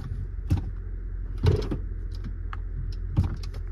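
Power windows on a used car with 156 miles on it whir up and down, a faint motor hum punctuated by three soft thumps as the glass reaches its stops, with no talking.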